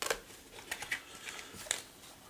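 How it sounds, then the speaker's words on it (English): Tarot cards are shuffled close up, soft irregular riffles and light flicks of the deck in a quiet room. "So I'm going to shuffle, look for a popper, something to pop out here for us."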